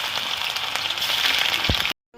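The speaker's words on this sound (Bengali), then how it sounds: "তেল গরম হয়ে গেছে, আমি সয়াবিনগুলো ভেজে নেব" Soya chunks fry in hot oil for a soya chilli dish, a dense, even hiss like rain that runs for about two seconds and then stops abruptly.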